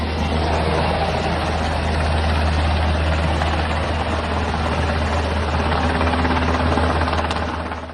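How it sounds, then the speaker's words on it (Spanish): A helicopter carrying United States officials flies over Mexican airspace near the northern border, its steady rotor and engine drone loud and continuous throughout, easing slightly at the very end. "fue videograbado el primer helicóptero con autoridades estadounidenses sobrevolando cielo mexicano"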